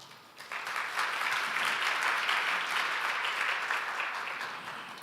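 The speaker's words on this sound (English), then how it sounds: "Let's give him a big round of applause once again." A symposium audience applauds steadily for about five seconds, a dense wash of clapping that swells quickly and holds without a break.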